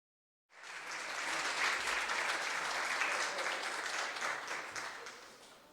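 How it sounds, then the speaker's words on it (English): Audience applause at a town State of the Town event in Cheektowaga starts suddenly after a brief silence, holds as a dense, even wash of clapping and begins to fade near the end. "Let's give them and Carrie Peak a round of applause."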